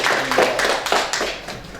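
A classroom of students in a university teacher-training practice lesson clapping briefly together: a short burst of close, rhythmic hand claps lasting under two seconds.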